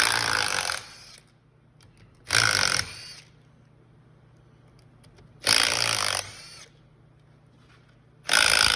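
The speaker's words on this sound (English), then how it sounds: "So grab 10 mil and pop. There's 1, 2, 3, 4, 5 bolts off the output." An impact gun spins output housing bolts off a Jeep NP231 transfer case with a 10 mm socket, four loud whirring bursts of about a second each separated by quiet pauses.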